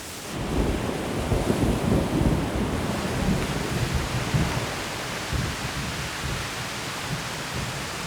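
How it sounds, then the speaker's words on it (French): Rain falls outdoors during an archery challenge, a steady dense hiss that stays loud and even throughout, with a slightly heavier patch early on and no voices. "Oh non, il pleut."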